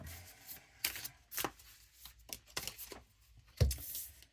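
A deck of tarot-style cards is shuffled by hand in quiet surroundings, a string of soft, uneven riffling and slapping bursts with one heavier thump near the end, close and fairly faint.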